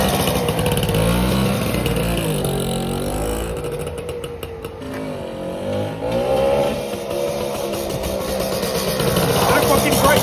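A 1961 BSA Bantam D7 motorcycle revs and pulls through its gears while ridden, the small engine buzzing loudly up and down in pitch, close to the rider, with occasional speech.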